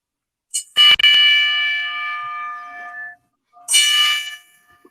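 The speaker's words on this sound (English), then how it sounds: "give him a 10-bell salute before we start off tonight's episode" Ten-bell salute opening a wrestling preview show: a loud, close metal bell is struck, its bright tone ringing out and decaying over two seconds, then struck again after a pause.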